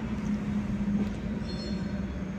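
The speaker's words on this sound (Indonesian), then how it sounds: "kereta lokal Bandung Raya baru keluar dari stasiun Padalarang menuju ke Bandung" Bandung Raya local train rolls out of Padalarang station toward Bandung, a steady low rumble of wheels and carriages on rail with a faint squeal near the end, continuous and moderately close.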